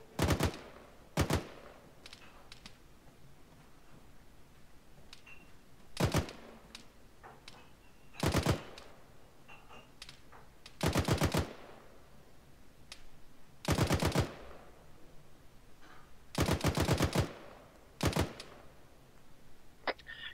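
Machine-gun fire in the ArmA 3 military simulation game comes in short, loud bursts of rapid shots separated by pauses of quiet background, about nine bursts spread evenly over the stretch.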